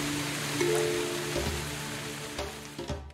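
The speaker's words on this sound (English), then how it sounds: "It's rain here." Steady rain in the video game Quench, a dense even hiss of falling water that stays close and constant throughout, with a few soft thuds and a brief tonal game sound rising above it.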